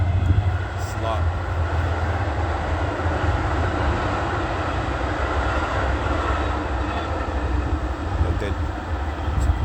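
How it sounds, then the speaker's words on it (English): A train rumbles past as a steady, broad, continuous roar that holds at an even level for the full stretch, with a voice briefly heard over it. "that train pass by"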